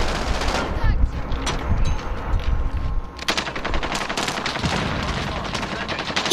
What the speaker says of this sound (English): Get this burst pistol